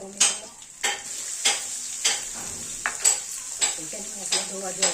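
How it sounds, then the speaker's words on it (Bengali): Spices for bhoger khichuri fry in a pan, with a steady sizzle broken by about eight regular scraping strokes of a spoon stirring against the metal. "ভালো করে ভেজে নেবো মশলাটা কষিয়ে নেবো ভালো করে"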